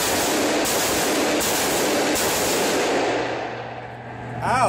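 A revolver is fired rapidly at a shooting range, and the cylinder is emptied in a dense, loud burst of overlapping reports that fades into a short rumbling tail.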